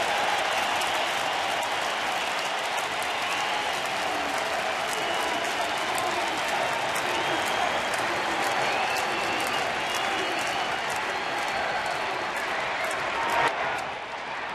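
A baseball crowd at Rangers Ballpark in Arlington, on its feet during a tied opening-day game, keeps up a dense, steady roar of cheering and applause throughout, with faint clapping on top.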